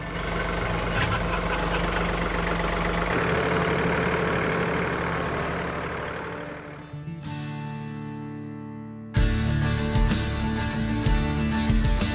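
A heavy tractor engine rumbles steadily at idle, its tone shifting and dipping partway through before a louder, rattling chug takes over.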